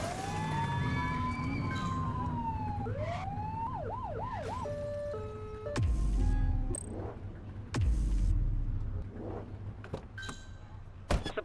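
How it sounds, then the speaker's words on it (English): A police car siren in a city police video game wails and yelps through several changing tones, followed by heavy thuds and short bursts of other game sounds. "Get behind them and flip the siren to make them pull over."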